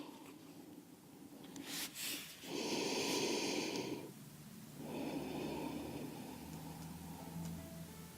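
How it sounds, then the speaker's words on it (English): Long, deep breathing during a kundalini yoga pose with the forehead resting on a brick on the floor: slow, airy inhales and exhales drawn out over several seconds, close and quiet, with no talking. "Long, deep breaths."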